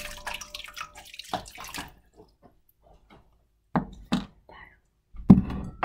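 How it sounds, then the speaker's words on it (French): Boiling water poured over batter for a pouding chômeur, a sugar-shack dessert, arriving as short intermittent splashing bursts between quiet gaps, with a little talk early on. "Ensuite, on va venir y mettre l'eau bouillante."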